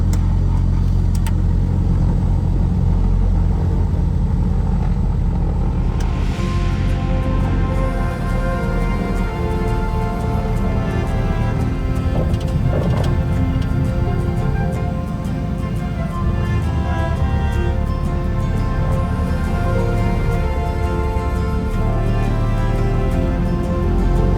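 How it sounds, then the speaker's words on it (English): Small twin-engine commuter airliner taxiing out to the runway at Tiree airport in Scotland, its engines producing a steady, loud, continuous rumbling drone throughout with no talk. "the engines were fired up and we taxied our way out to the runway for takeoff"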